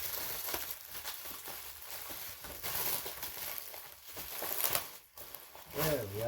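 Crinkly bubble wrap packaging being pulled and torn open around a new wrestling belt, with irregular close crackling and rustling throughout under a voice talking.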